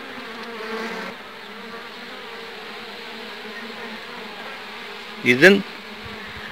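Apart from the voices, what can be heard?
honeybees buzzing at a beehive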